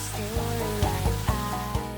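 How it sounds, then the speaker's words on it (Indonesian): Chicken marinated with ginger, garlic and spices frying in hot oil, a steady close sizzle with soft pops and clicks every half second or so, no voices. "Pertama kita goreng dulu ayam yang sudah dimarinasi jahe, bawang putih, dan bumbu rempah lainnya. Digoreng selama 7 menit."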